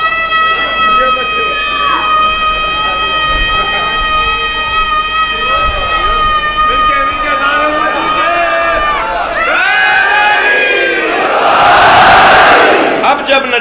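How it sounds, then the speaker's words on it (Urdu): A large crowd at a Muharram majlis chants religious slogans in loud, sustained unison, sung tones holding and shifting, then swelling into a rougher massed roar of voices toward the end. "اب جب مجلس میں نعرے اور یہ کیفیت ہو جو ہے"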